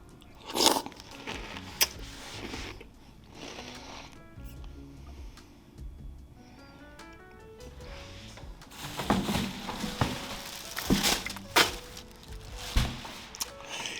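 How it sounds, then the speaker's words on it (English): Cocoa Puffs chocolate cereal with milk is crunched and chewed close to the mic, bursts of crisp bites separated by a quieter stretch, then several loud crunches in quick succession. "Now let's have the chocolate cereal"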